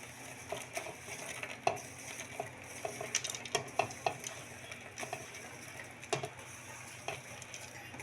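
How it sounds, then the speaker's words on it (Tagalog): Cooked popcorn tipped into a bowl, a soft scatter of light ticking and rustling kernels with sharper little clicks here and there, quiet and close, with no talking. "Lagay natin siya dito sa isang parang bowl na to."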